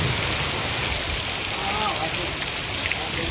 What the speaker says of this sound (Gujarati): વરસાદ આવે છે બહુ